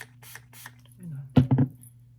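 A Skindinavia setting spray is misted onto a face, several short hissing pumps near the microphone, with talking before and between the sprays.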